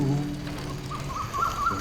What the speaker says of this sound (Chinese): 虫叫声、鸟叫声